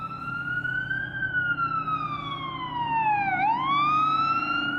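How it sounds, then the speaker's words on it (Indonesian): A toy fire engine siren wails steadily, its pitch slowly falling and then sweeping back up, loud and continuous throughout. "ternyata ini pemadam kebakaran"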